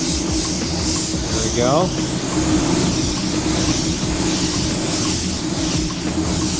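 Air blowing steadily to dry a fresh coat of paint on a car bumper, a loud continuous hiss that fills the whole clip, with someone speaking briefly over it.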